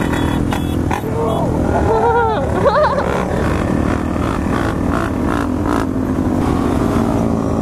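Dirt bikes ride out on dirt, their engines droning and revving continuously and loudly up close while people talk and shout over the noise.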